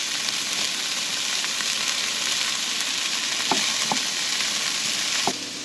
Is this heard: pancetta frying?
yes